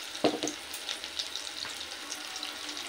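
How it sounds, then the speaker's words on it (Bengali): Quartered potatoes sprinkled with salt and a pinch of turmeric fry in a pan, a soft, faint sizzle with a few light clinks and stirring sounds. "আলুটাকে একটু লাল করে ভেজে দিই।"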